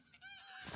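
Geese honk in the hunting game theHunter: Call of the Wild on a waterfowl coast map, a few faint nasal honks in quick succession, somewhat distant.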